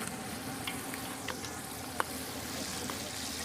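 Kokum or tamarind pieces drop into a hot pan of oil, setting off a steady close sizzle with a few faint clicks and one sharp tick partway through, no voices.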